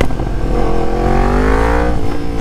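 A Yamaha FZ10 with an Akrapovic mid-pipe, titanium R1 header and stock muffler revs hard in one continuous climb, its loud, rasping engine note rising steadily in pitch before dropping off.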